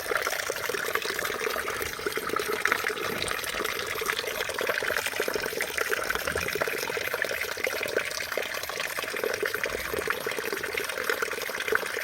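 Tap water running steadily at a courtyard faucet while fish is cleaned, a constant close splashing flow with faint handling sounds and no talk.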